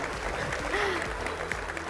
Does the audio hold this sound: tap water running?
no